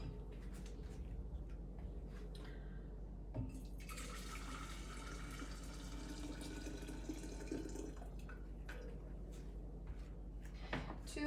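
Water pouring steadily into a container while making brine for Polish dill pickles, a soft continuous trickle that swells in the middle and then tapers off, with faint background noise.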